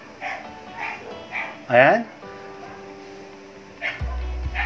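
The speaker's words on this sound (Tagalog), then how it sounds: "So yan, sumabay pa yung aso." A dog barks once, sharp and fairly near, breaking into steady indoor talk, with quieter voice continuing around it and a low thump near the end.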